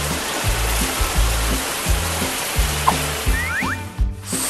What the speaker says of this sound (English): okay, I'll spray water.